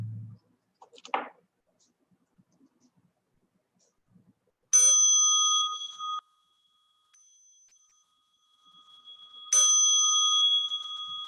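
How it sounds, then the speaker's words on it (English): A mindfulness meditation bell is struck twice several seconds apart, each a clear, bright ring that lingers and fades slowly in an otherwise quiet room. "Please listen to the bell."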